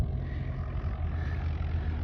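A Piper J-3 Cub's engine drones steadily in flight, a continuous low propeller hum heard from inside the small airplane with no break in the sound.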